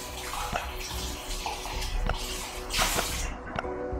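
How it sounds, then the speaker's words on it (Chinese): Loud, steady running water pours continuously in the survival video game Last Day on Earth: Survival, with a few soft clicks and splashes scattered through it. "这个水声也太大了。"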